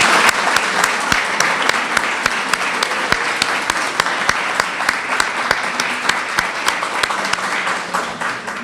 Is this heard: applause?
yes